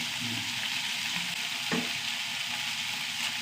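Ginger, garlic, green chilli and curry leaves sauté in hot oil with onions, producing a loud, continuous sizzle with a brief stirring scrape midway and no talking.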